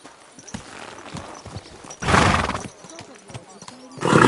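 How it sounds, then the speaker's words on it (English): In the video game Kingdom Come, a horse snorts and neighs in loud bursts while its hooves clip-clop in scattered steps, and a voice speaks at times over the sounds. "Here is your horse. Look at that glistening mane."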